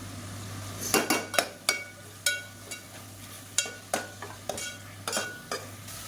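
A spatula scrapes and knocks against a pan in a dozen irregular sharp clinks while mint and coriander stir-fry with ginger garlic paste for biryani, over a faint background sizzle.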